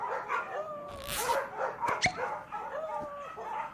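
A cartoon dog barks and yips in a quick, bright run of calls with some whimpering squeaks, set against busy animated sound effects including a sharp whoosh and a short thump.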